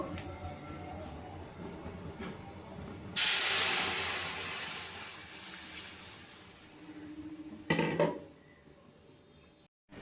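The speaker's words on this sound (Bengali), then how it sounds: "এবার আমি মুগ ডাল সিদ্ধটা দিয়ে দেবো" Boiled mung dal poured into a pan of well-fried onions, setting off a sudden loud sizzling hiss that gradually fades, with a second brief burst of sizzle near the end.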